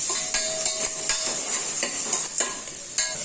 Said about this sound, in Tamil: நல்லா நல்லா வெங்காயம் வதங்கட்டும் பச்சை வாசனை போகட்டும்